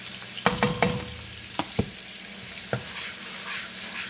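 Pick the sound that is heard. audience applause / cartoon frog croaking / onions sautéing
onions sautéing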